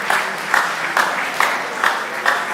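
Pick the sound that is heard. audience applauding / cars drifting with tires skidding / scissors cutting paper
audience applauding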